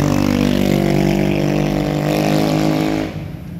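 A car with a loud modified exhaust revs hard and close, a sustained throaty roar with strong low harmonics that fades out near the end.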